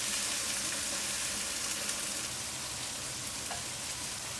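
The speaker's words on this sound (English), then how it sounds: "Then add the green vegetables and stir fry on high heat for 2 minutes." Green vegetables stir-frying in a pot over high heat, a steady close sizzle and hiss running evenly throughout with no pauses.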